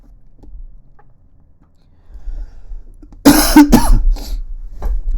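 After a quiet stretch, a person coughs sharply a few times, close and loud, followed by a softer cough.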